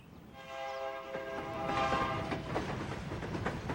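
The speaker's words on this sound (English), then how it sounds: "residents hear the sound of an onrushing train" Loaded 69-car freight train hauling trona rushes in the foothills of the San Bernardino Mountains, a rising rumble and roar with a sustained horn blast, heard from a distance and growing louder.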